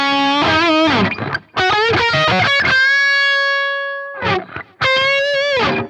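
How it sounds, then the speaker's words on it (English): Distorted electric guitar run through a distortion pedal model on a Line 6 Helix, loud and up close: bursts of picked notes, then a long sustained chord ringing out, and more picked phrases at the end. "the distortion pedal"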